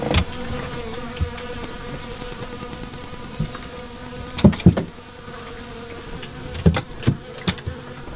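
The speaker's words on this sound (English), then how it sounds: "We're being attacked by bees." Bees buzz steadily on an island shoreline, with a continuous insect hum through the whole stretch and a few louder close passes as individual bees fly near.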